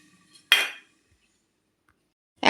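A lid goes onto a cooking pot with two sharp metallic clinks about two seconds apart, close by, with near silence between them and no talking.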